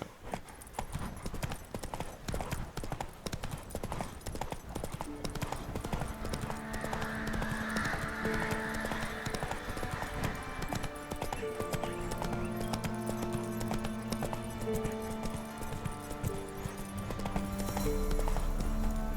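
Horse hooves clip-clop in a steady rhythm in The Witcher 3, joined by a whinny, set over a musical score with a soft voice briefly present.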